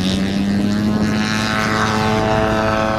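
A gas-powered RC aerobatic airplane flies a 3D aerobatic routine, its engine droning loudly and continuously with a buzzing propeller tone that shifts slightly in pitch as it passes.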